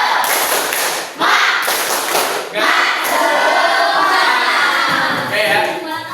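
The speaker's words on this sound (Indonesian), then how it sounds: "coba untuk selanjutnya kita tepuk semangat" A classroom of students doing a tepuk semangat spirit clap, several rhythmic bursts of sharp group hand claps with short pauses between, loud and close with some voices mixed in.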